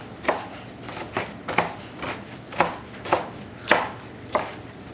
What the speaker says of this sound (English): we go ahead and we dice these up